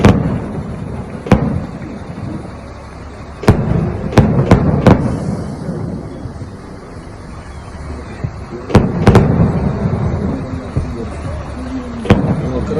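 Sharp bursts from a New Year fireworks display in Shusha crack out irregularly, several in quick clusters, over a steady crowd-like background rumble.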